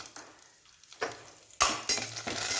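Thin coconut slices frying in a pan while making oats payasam, a bright crackling sizzle that swells sharply partway through, close and fairly loud with light stirring.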